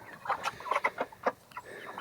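Meat-bird chickens clucking excitedly at feeding time, a busy overlapping chatter of short clucks close by, no talk.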